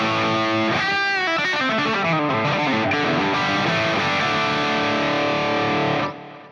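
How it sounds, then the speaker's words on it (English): Distorted electric guitar plays a fast run of notes that blur together in a wash of echo and reverb, then ring out and fade at the end. "Bit of reverb and delay too."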